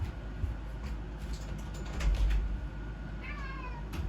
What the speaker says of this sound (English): I gotta let my cat in.